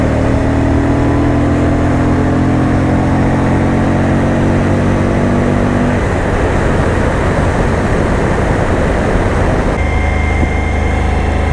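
A Suzuki V-Strom 1000 motorcycle riding along Scenic Route 20, a mountain pass in Washington, its engine droning steadily with loud, constant road and wind noise throughout, the engine note dropping and roughening partway through.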